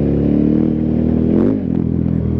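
A 2018 KTM 1290 Super Adventure S, a 160-horsepower adventure motorcycle, drones loud and close at steady revs, then the throttle shuts and the pitch dips before idling on.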